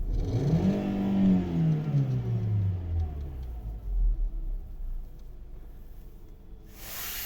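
A 2009 VW Golf V 1.6 MPI petrol engine revs up once, the pitch rising then sliding slowly back down to a low idle rumble, heard up close.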